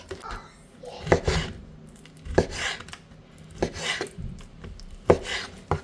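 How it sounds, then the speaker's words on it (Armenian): A knife chops through meat on a cutting board in several uneven strikes, close by, with a voice faintly in the background. "Պետք է կտրատել հավի կրծքամիսը, ոչ այնքան մեծ, ոչ է շատ փոքր կտորներով"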